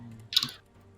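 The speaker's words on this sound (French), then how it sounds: "Est-ce que tu entends mon clavier?" A single faint, soft click of a computer keyboard key during a game session, brief and close against quiet background.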